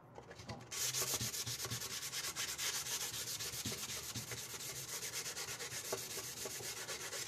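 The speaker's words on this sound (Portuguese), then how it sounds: "Isso aqui é um suporte da Grid Brasil também, ó. Pra gente lixar." Sandpaper in a handheld holder scrubs across an MDF craft box, a loud, steady rasping with quick back-and-forth strokes that runs without a break after a brief quiet start, close to the listener.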